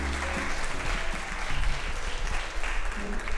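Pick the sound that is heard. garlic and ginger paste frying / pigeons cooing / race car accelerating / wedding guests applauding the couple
wedding guests applauding the couple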